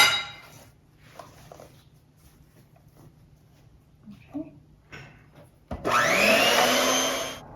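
An electric mixer whirs loudly into wedding cake batter made with eggs, starting abruptly near the end after quieter kitchen sounds and small clinks, running steady and close.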